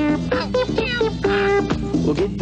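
A cat's meows woven into an Arabic children's song about a grandfather's cat and duck, sounding over a bright, steady musical backing with sung melody.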